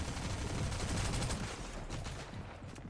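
Faint, dense bursts of Fortnite gunfire crackle through a competitive match, a continuous rattle of rapid shots sitting low and distant in a noisy mix.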